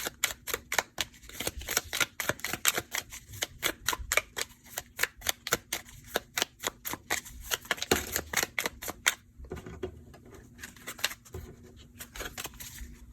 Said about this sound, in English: Need some shuffles.